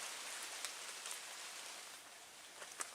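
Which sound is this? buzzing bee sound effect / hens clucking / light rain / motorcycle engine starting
light rain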